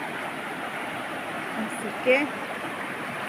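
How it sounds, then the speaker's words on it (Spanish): Rain falls steadily at a riverside on the Costa Chica of Guerrero, a constant broadband hiss of drops and flowing water, with a brief louder splash partway through and a voice speaking briefly. "Acabamos de llegar apenas ahorita al río y ya está lloviendo."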